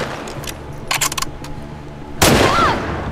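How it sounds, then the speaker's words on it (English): Gunfire in The Last of Us Part 2: a few sharp shots and short bursts in the first second, then a loud blast near the end that rings out over a noisy background. "I shot you in the arm"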